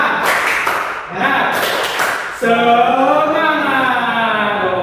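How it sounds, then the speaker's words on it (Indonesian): Schoolchildren in an elementary classroom perform a patterned spirit clap together, a rhythmic run of sharp group claps that gives way to loud chanting voices in unison. "Tepuk semangat."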